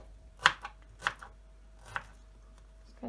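A knife chops food on a cutting board while a strawberry milkshake is being made: four crisp, close chops at uneven intervals, with no talking.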